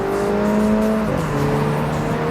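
A John Cooper Works Mini Cooper accelerates with its engine note droning steadily inside the car and a single shift partway through. Exhaust pops are not clearly distinguishable, and no one speaks.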